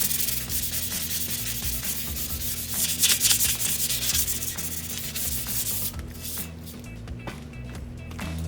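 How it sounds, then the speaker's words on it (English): Sandpaper rubbed by hand over a scrap metal hitch rack for a van, a continuous close scratchy rasp with rhythmic back-and-forth strokes and a steady low hum underneath, no talking. "I have some sandpaper. I'm going to prep it."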